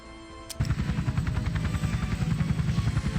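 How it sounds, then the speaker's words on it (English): A helicopter in People's General video game sets in abruptly after a brief click, its rotor thumping in a fast, even pulse that stays loud and close throughout. "there's a helicopter"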